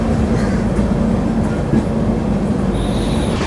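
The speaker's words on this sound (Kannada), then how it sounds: "KSR ಬೆಂಗಳೂರಿಂದ MGR ಚೆನ್ನೈ ಸೆಂಟ್ರಲ್ಗೆ ಹೋಗುವಂಥ ಡಬಲ್ ಡೆಕ್ಕರ್ ಎಕ್ಸ್ಪ್ರೆಸ್." A double-decker express train running from Bengaluru to Chennai rolls past nearby with a loud, steady rumble, a faint hum and light wheel squeal, continuous throughout with no voices.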